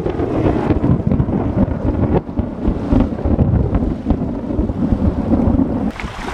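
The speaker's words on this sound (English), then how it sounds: "here comes the lightning and the thunder" Thunder rolls through a storm on the island of Eleuthera, heard as a continuous loud rumble mixed with strong wind buffeting the microphone, with a sharper burst near the end.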